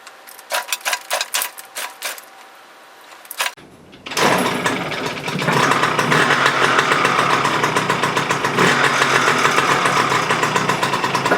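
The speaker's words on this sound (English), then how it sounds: "warm up your bike." A Yamaha PW50 dirt bike engine sputters through a few uneven revs, drops out briefly, then catches and settles into a loud, steady, buzzing two-stroke idle close by.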